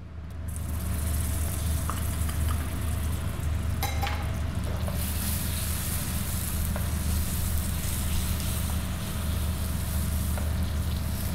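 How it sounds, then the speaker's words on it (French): Caramel taken off the heat and deglazed with butter sizzles loudly and steadily in the pan, a dense continuous hiss with no one talking. "À ce moment-là, je le sors du feu et je le déglace au beurre."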